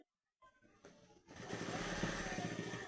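A sewing machine stitches a sleeve onto a ready-made shirt in a tailor's shop; after a near-silent start with faint handling, the motor whirs up into a steady, quiet, continuous run.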